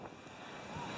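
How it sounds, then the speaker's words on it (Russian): Wind gusting at a Daytona Beach, Florida beach ahead of a thunderstorm, a steady broadband rush with buffeting on the microphone and surf mixed in, loud and continuous, with no voices. "Опять пошел ветер, и уже гром гремит."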